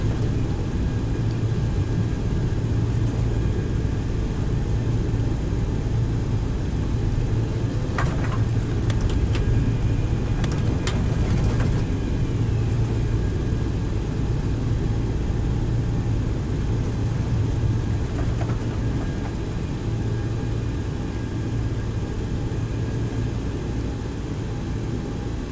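A Boeing 727-200F freighter slows while taxiing in the X-Plane 11 flight simulator, with a steady, loud jet engine rumble and hum droning throughout, broken only by a few faint clicks.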